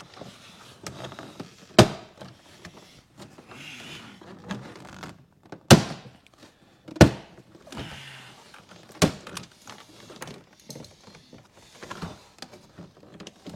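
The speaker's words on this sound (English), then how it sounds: "I think we need to take the whole door panel off and then remove that." A car door's inner trim panel is pried away from the door, giving several sharp, close thunks and pops spaced a few seconds apart, with softer scraping and rattling between them.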